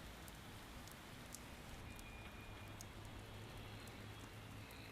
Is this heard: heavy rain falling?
yes